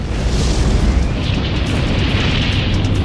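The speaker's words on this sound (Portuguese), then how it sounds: "Haverá uma enorme explosão." A loud, sustained roaring rumble like a massive explosion, deep and dense throughout with no break, no voices.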